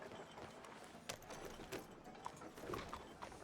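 Horse hooves in Red Dead Redemption 2, faint irregular clip-clop steps under quiet ambient game noise, distant and soft.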